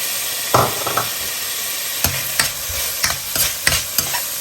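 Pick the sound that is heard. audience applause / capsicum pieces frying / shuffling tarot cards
capsicum pieces frying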